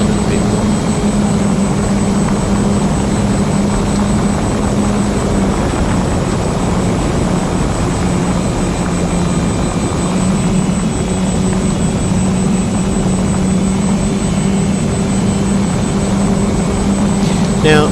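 A Ranger FPV radio-controlled model plane drones steadily in flight, a continuous loud motor and propeller whine with a high steady tone, heard close and alone without speech.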